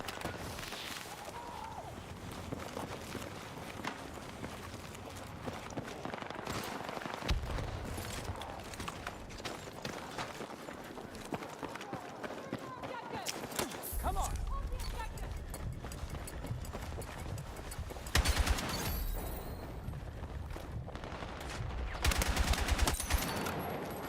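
SCAR rifle fire in the Battlefield 6 battle royale, bursts of gunshots scattered through the clip with heavier clusters near the end, under someone talking.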